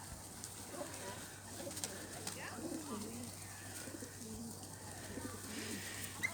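Hungry pigeons in Stanley Park coo softly and repeatedly, a low burbling chorus from several birds nearby over quiet outdoor ambience.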